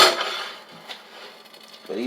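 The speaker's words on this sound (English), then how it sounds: "Got me a nice non-stick frying pan" A non-stick frying pan handled in a home kitchen, giving a clattering knock at the start, a light tap midway and another clunk at the end, close and fairly quiet, with no talk.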